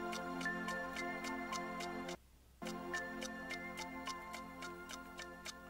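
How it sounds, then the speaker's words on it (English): A clock ticks steadily in a regular tick-tock rhythm, close and clear over music, with a brief drop in the backing sound partway through. "The ticks of the clock."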